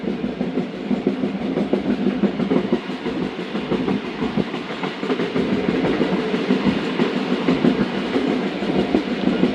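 The Musapak Express passenger train rolls past at night with steady clickety-clack of wheels on rail joints over a continuous rumbling roar, fairly close and sustained.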